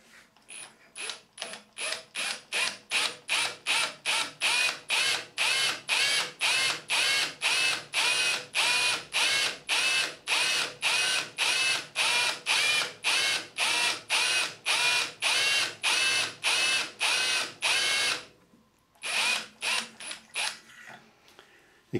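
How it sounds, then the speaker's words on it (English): Power drill running in reverse with a left-handed bit biting into a broken bolt in a deep recessed hole, a rapid ratcheting chatter pulsing in fast, regular bursts, loud and close, pausing briefly before a final short run. "I'm going to ensure the drill is in reverse."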